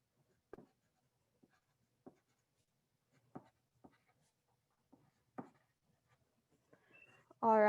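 Green colored pencil writing a message inside a rustic Christmas card, a string of soft, scattered scratchy strokes with pauses between them, close and quiet, ending in a sudden loud burst.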